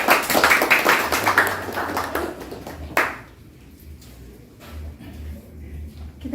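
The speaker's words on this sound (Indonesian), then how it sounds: "Tepuk tangan dulu dong untuk Pak Sigitnya." Applause for Pak Sigit at an Indonesian book launch honouring national hero Soekardjo Wirjopranoto: a short burst of crowd clapping that dies away after about three seconds, leaving quiet room noise with faint low hum.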